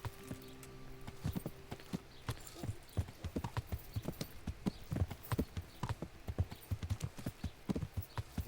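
A horse's hooves clip-clop at a steady walking rhythm in the Kingdom Come Deliverance video game, fairly quiet and close, with a few faint background tones and no talk.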